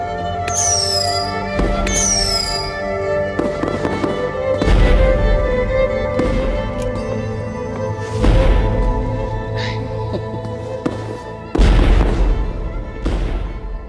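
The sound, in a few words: memorial fireworks display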